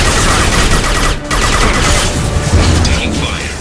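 Dense, loud gunfire from the video game Mass Effect 2 rattles almost without pause in cracking bursts and booms, with voices speaking over the shooting.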